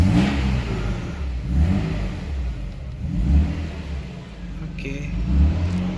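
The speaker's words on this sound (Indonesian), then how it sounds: "Sebentar, kita gas sedikit baru kita nyalain." A 1992 Mercedes-Benz 300SEL W140 engine is revved repeatedly, its close, loud drone rising and falling in several throttle blips.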